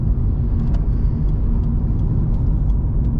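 Steady, close engine rumble and road roar from a Mazda RX8 driving in traffic, with a low, even drone that holds at the same level throughout and no voices.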